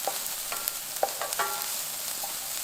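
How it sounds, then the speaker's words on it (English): Chopped onion fries in hot oil in a pan, giving a steady bright sizzle with a few soft crackles and stirring scrapes. It sits close and moderately loud, with no talking. "Add one chopped onion and cook until your onion's translucent."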